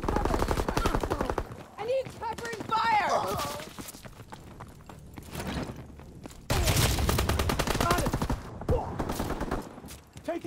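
Heavy automatic gunfire rattles in bursts through a Call of Duty: WWII battle, loud and near, with dense rapid fire stretches broken by brief lulls, mixed with shouted voices and game sound effects.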